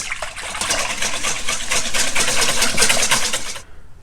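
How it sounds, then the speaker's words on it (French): An electric whisk beating pancake batter of sugar and eggs, a loud close buzzing whir with a rapid rattling pulse that runs steadily, then cuts off abruptly just before the end. "on mélange au batteur au fouet"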